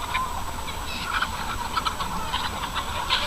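Several chickens, some molting, clucking and chattering in short, overlapping calls at moderate distance against a steady background hum, no voices.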